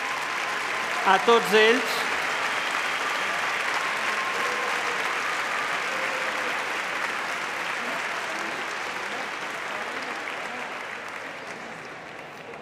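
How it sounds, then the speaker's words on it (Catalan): Sustained applause from a university graduation ceremony audience for new graduates, a broad even wash of clapping filling the hall, with a brief voice near the start before the clapping fades slightly toward the end. "Un fort i molt fort aplaudiment"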